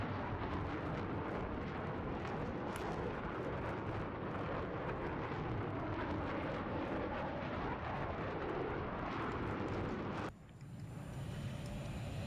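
An enemy fighter jet taking off in the online shooter Battlefield 3, a loud, steady engine roar that fills the whole stretch amid battle noise, then drops away sharply near the end.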